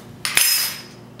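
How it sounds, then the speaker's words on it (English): A spoon scrapes once through a mixture in a pot while making an oat recipe, a short bright metallic swish, close and alone. "You want to stir it"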